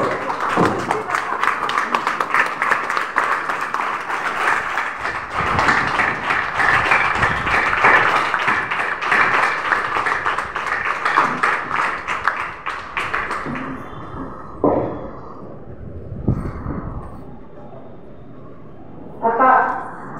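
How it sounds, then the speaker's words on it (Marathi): A concert audience rises for a standing ovation after a song, dense sustained clapping filling the hall for several seconds before thinning out into scattered claps, with voices mixed in. "सगळे उभं राहून टाळ्या वाजवतात"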